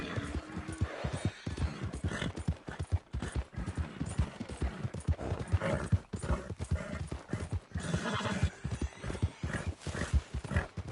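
Horse hooves galloping at a steady clip-clop rhythm in the Western video game Red Dead Redemption 2, close and continuous, with occasional snorts and a brief voice over the pounding gait.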